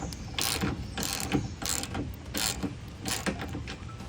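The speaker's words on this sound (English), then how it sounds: "I really like the Milwaukee tools. They have a really nice, smooth action to them." A Milwaukee ratchet tightening bolts on a Tusk bed extender for a Kawasaki KRX1000, giving a steady run of rapid ratcheting clicks in repeated bursts, close and fairly loud, with no talking.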